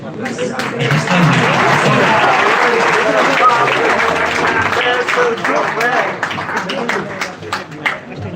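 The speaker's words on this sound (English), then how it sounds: "Everyone give a big round of applause." An audience at an engineering career guidance event applauds in a loud, sustained wash of clapping with crowd murmur and voices mixed in, thinning toward the end.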